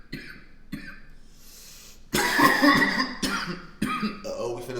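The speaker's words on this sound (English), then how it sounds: "we finna go viral with me coughing" A man coughs during a college football talk show, first with a few short dry coughs and then with louder, harsher bursts in quick succession, close to the microphone.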